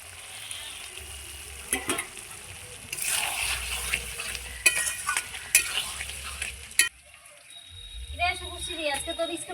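Raw tomato goes into a frying pan with duck eggs and capsicum, bringing a burst of loud sizzling and stirring scrapes, with spatula clinks against the pan, before the frying settles and a voice speaks over it.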